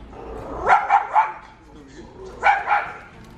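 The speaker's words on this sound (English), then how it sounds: "Look, Makai, there's another dog." A dog barks in a few quick, sharp yips, two short bursts close by, while a person talks in the background.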